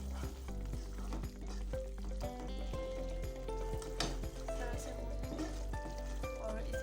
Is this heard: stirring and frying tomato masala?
yes